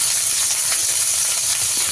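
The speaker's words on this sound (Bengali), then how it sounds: "হ্যাঁ, তো আমরা ভালোভাবে এই চিংড়িগুলো তেলে ভেজে নিব" Prawns fry in hot oil, giving a steady, loud, close hiss that holds level and unbroken for the whole stretch, with no talking over it.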